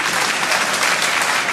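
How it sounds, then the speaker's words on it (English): Dense, steady applause from a large theatre audience at a televised royal variety comedy show, loud and continuous with no talk over it. "I hope you're clapping for Mandela."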